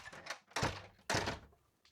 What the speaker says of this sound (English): And my doors started banging.